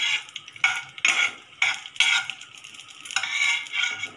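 Onions and garlic sautéing in a pan for garlic kara dosai, with steady sizzling broken by repeated bursts of stirring and spatula scraping, close and alone.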